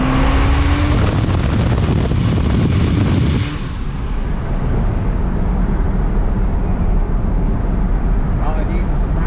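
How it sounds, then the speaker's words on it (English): A Cummins 12-valve diesel pickup truck engine runs with a loud, close, continuous rumbling drone heard from inside the cab, its tone shifting and softening slightly partway through before carrying on steadily. "Listen to that 12 valve purr."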